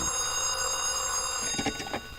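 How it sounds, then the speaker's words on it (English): An office telephone rings in a 1952 radio crime drama, a steady electric bell tone holding throughout, with faint handling sounds near the end as the call is picked up. "The time when he picks up his office phone and calls Anthony Servo at the Dixon Hotel."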